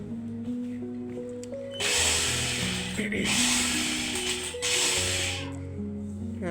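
An electric sewing machine stitching fabric around a kaftan neckline: three short bursts of steady mechanical whirring with pauses between them, set against sustained background music.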